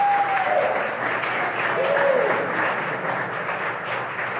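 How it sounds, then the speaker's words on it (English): People in the room behind the commentator at the SpaceX Crew-8 launch broadcast at Kennedy Space Center clap and cheer in steady applause, loud and sustained, with a couple of brief tones near the start. "of course the cheering behind me, means that we have had successful main engine cutoff"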